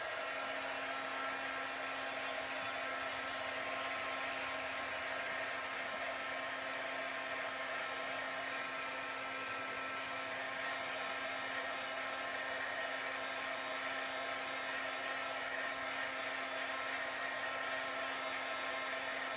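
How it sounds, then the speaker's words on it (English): Heat gun blowing over a watercolor card, a steady, loud whooshing roar with a constant motor whine, running unbroken and alone throughout. "I'm going to hit these with my heat gun and dry them real quick."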